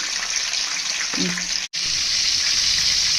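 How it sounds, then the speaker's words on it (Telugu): Tomatoes frying in hot oil in a kadai, giving a steady close sizzle with a brief stir sound and a short break partway through. "ఇదే బాండీలో ఆయిల్లో మళ్ళీ టమాటా వేయాలి"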